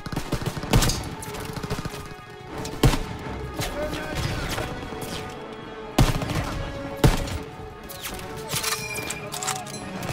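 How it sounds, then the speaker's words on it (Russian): Heavy gunfire from a WWII shooter game, with sharp repeated shots and bursts standing out over continuous loud battle noise, while someone talks over it. "Мы стреляем только по головам."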